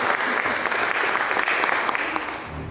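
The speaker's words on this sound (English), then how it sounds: "So I clap my hands, Barbara." Applause from an audience at a speaker series talk on Norman Studios, a brisk, dense burst of clapping close by that carries on for nearly three seconds before tapering off.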